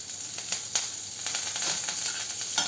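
Green chillies, ginger and curry leaves crackle in hot tempering oil, a steady close sizzle with irregular sharp pops and spits scattered throughout, no talking.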